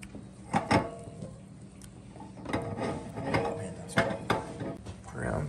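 Meat grinder with a smaller plate fitted running waterfowl meat through a second grind, giving a steady mechanical whir with intermittent clunks and rattles, close up and fairly loud, with faint talk in the background.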